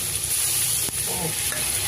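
Spices with turmeric, salt, green chillies and ginger-chilli paste frying for an okra curry in mustard sauce, heard as a close, dense sizzle with stirring and a brief utensil knock, no talk.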